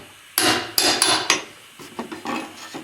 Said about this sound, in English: I use the same pry bar to get all the trim off